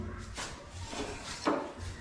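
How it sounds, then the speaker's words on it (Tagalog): A kitchen cabinet drawer is fitted onto its drawer guide in a townhouse under construction, giving faint wooden rubbing and a brief knock amid quiet room noise. "drawer na po yung siniset nila dyan. Drawer guide."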